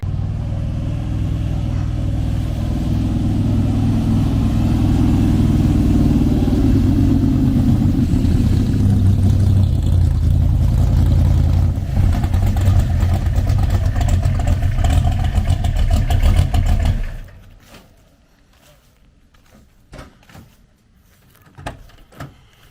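A 1968 Chevrolet Camaro engine rumbles loudly and steadily, close by, as the car drives, then cuts off abruptly, leaving near silence with a few faint knocks.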